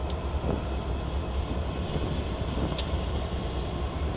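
Steady low rumble of a Union Pacific freight stack train idling on the main line, led by AC4400CW and SD70M diesel locomotives; a continuous broad engine drone with no talking.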